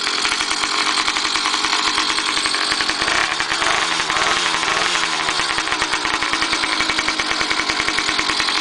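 A cold PedalChopper motorized bicycle engine runs steadily and loud with a rapid, rough, buzzing two-stroke putter, rising briefly in revs midway before settling back.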